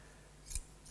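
Two short metallic snips from an old pair of decorator's scissors being handled, quick and close, separated by a brief pause against quiet room tone.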